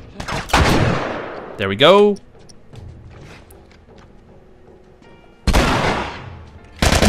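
Bursts of gunfire in The Last of Us hospital level, loud broadband blasts near the start and again near the end with a quieter stretch between, while someone talks briefly over the action.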